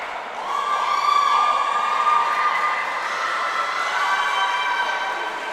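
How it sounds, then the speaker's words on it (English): Teammates cheer from the deck of an indoor swimming pool during a race against Sharon, a sustained mass of crowd noise with a piercing whistle-like tone riding over it throughout. "Lots of cheers from her teammates."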